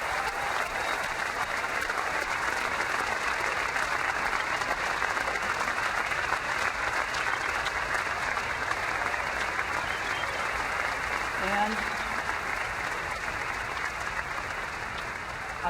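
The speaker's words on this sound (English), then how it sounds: "giving them a round of applause for bringing us these" A large Macworld New York 2001 keynote audience applauds in long, dense, unbroken clapping that holds a steady level throughout before easing slightly at the end.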